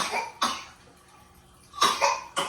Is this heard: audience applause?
no